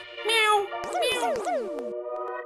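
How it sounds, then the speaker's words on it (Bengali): A cat meows several times in quick succession, close and clear, each call rising and falling in pitch, in a Bengali cartoon scene. "বিড়াল এলো নাকি?"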